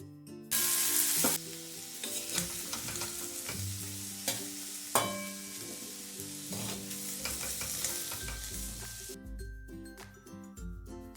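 Jackfruit being stirred in a frying pan with a steady sizzle and repeated scraping and clinking strokes, running continuously for about eleven seconds under a bed of background music.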